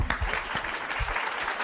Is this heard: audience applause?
yes